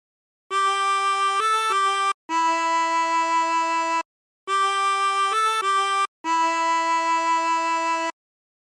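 Two identical phrases of Silent Night played on a 24-hole tremolo harmonica, each made of sustained, wavering reedy notes with short breaks between them and a pause between the phrases, clear and alone.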